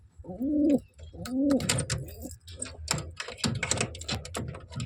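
Pigeons inside a coop give two close, low, throaty coos, followed by light clicking and rustling movements.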